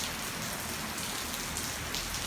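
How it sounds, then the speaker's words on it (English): Afternoon rain in Lopburi, Thailand falls steadily on surfaces as a dense, even hiss of drops, moderately loud and unbroken throughout, with no voices. "happy rainy day from Loburi, Thailand again"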